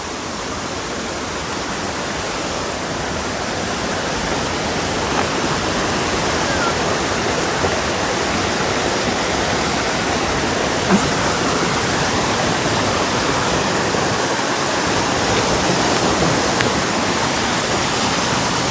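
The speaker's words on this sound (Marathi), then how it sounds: "नेचरचा जो आवाज आहे ना, जो फील आहे ना या धबधब्यांचा" A waterfall roars on a monsoon trek to Visapur Fort via Patan village, a loud, dense, unbroken rush of falling water that stays close and constant throughout.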